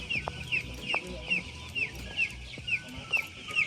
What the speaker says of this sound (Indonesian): Ayam. Ayam.